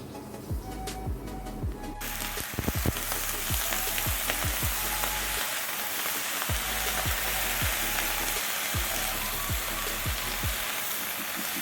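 Onion pieces fry in hot oil with a loud, continuous close-up sizzle and crackle, sharp pops scattered throughout and a brief clatter near the start, with no talking.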